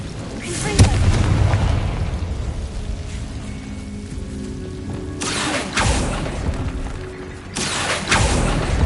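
Confringo fire spell in Hogwarts Legacy bursting in repeated heavy booms, three loud blasts about every few seconds, each with a rumbling decay, close and dominant with no talk.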